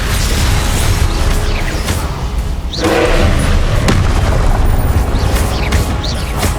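Confringo fire spell blasts in the Hogwarts Legacy video game, heard as a dense stream of booming thuds and pops over continuous loud battle noise, with a stronger burst near the middle.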